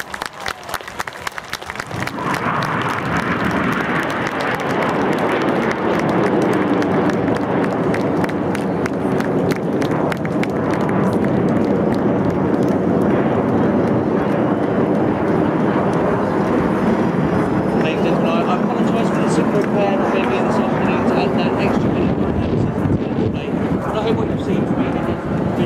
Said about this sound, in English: Ladies and gentlemen, the 2012 Red Arrows.